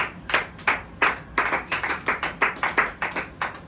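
A church congregation at a Sunday service claps in acclaim of the Holy Spirit, a brisk, fairly regular run of many hands clapping together, close and lively, with no talk over it.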